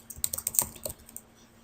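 A burst of quick keystrokes on a computer keyboard while setting a password during an Ubuntu 12.04 installation, about a dozen close, crisp clicks in rapid succession that then trail off into quiet.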